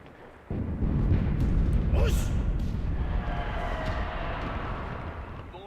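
Artillery barrage in the World War II shooter Enlisted, a sudden heavy roar that swells and holds as a dense, rumbling wall of distant blasts and whooshing shells for several seconds, with a voice talking faintly underneath.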